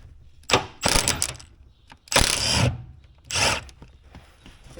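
Close, loud bursts of a spanner ratcheting on the front end of a 1967 Jaguar E-Type: four rasping clusters of rapid clicks with short quiet gaps between them, and no voices.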